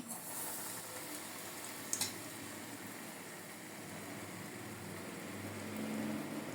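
Mirchi bajji, batter-coated chilli fritters dipped a second time, fry in hot oil. A soft steady sizzle continues throughout, with a brief clink near the start and no talk.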